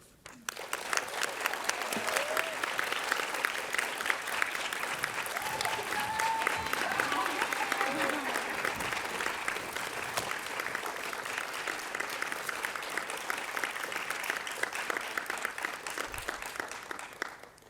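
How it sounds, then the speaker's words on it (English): Another round of applause for a graduate at an intercultural learning certificate graduation ceremony, sustained moderately loud crowd clapping filling the room and fading at the end, with faint voices mixed in. "Give her another round of applause."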